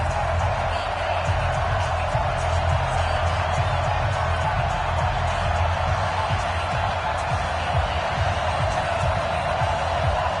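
Steady stadium crowd roar and cheering in an EA Sports football video game at a Houston Texans versus Jacksonville Jaguars matchup, a continuous dense wash of noise running the whole stretch without letup.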